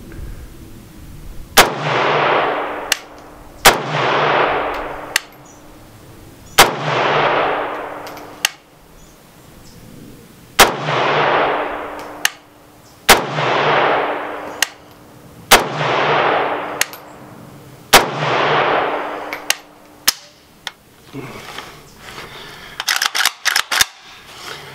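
Yugo AK rifle gunshots ring out at an outdoor shooting range, about a dozen loud, sharp single shots with spaced, uneven timing and long echoing tails, ending in a quick cluster of fainter clicks and rattles.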